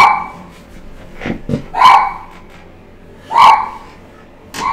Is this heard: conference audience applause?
no